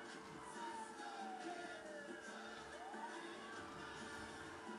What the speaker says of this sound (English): how do you turn the sirens off then?